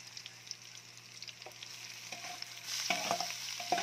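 Chicken pieces, bones included, sizzle and fry in a pan for chicken pastil, with stirring scrapes and a steady hiss that grows louder and busier toward the end; no voices.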